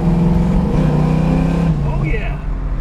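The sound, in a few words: 1970 Plymouth Cuda accelerating to pass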